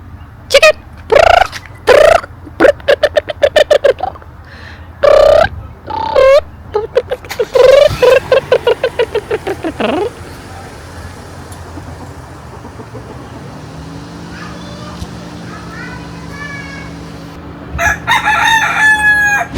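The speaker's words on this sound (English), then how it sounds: "Chicken." Outdoors on a rainy day in Hawaii, a rooster crows loud and near several times in repeated calls, with clucks among them, then falls quiet over a steady rain-like hiss until another burst at the end.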